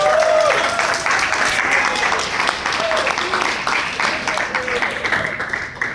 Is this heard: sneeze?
no